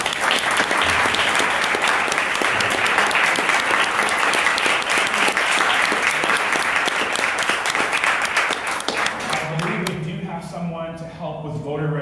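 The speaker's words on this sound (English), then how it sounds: "please round of applause for our two players" An audience at a debate event breaks into sustained applause for two debate players, dense loud clapping that fills the room for about ten seconds before thinning out at the end.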